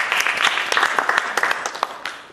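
Applause from an audience at a talk in the small room of the National Theatre, a fairly dense patter of claps close by that thins out toward the end.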